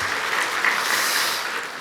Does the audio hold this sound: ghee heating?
no